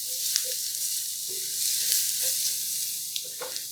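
Grated ingredient stirred into melted butter in a pan, a steady close sizzle and hiss of frying throughout, with a few soft scrapes of the spoon against the pan.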